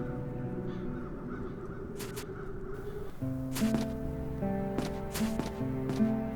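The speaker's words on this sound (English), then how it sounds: "Those peculiar crows." Crows caw in The Dark Eye: Chains of Satinav, a few harsh calls over soft ambience, followed by a tonal in-game music sting with further sharp caws, fairly close and clear.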